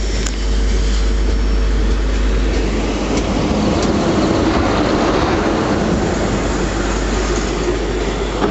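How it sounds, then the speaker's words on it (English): A train rumbles slowly through Kelvedon station at close range, a continuous heavy rolling noise with faint rail clatter, unbroken throughout. "this train is going to come through slow."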